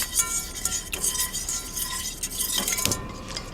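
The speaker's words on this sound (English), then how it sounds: "I'm going to give it a quick stir." Chocolate icing mixture gets a quick stir in a pan, giving light metallic clinks and scrapes of a utensil against the pan that come in an irregular, close, fairly quiet burst.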